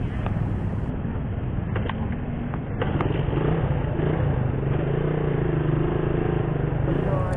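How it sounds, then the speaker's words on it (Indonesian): A stalled motorcycle engine is kick-started on a trip toward Ambarawa, with mechanical clatter and kicks followed by a steady engine drone running under wind noise, close and continuous. "Duh, malah mati mesin motorku cuy. Kita coba hidupkan lagi,"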